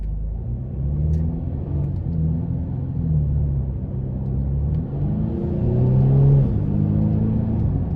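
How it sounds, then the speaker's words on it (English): A 2017 Mercedes-Benz C300 drives in eco mode as paddle shifters change gears, a steady low engine rumble whose pitch climbs and drops at each quick shift, with a swell of revving toward the end. "And it still shifts very quickly in eco mode with the paddle shifters."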